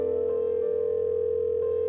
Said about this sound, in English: Trembling, I picked up the phone and dialed home.